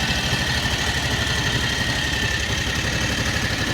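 A Predator 670cc engine swapped into a Kawasaki Mule 3010 runs with a steady, close, even rumble and no break or change in pace.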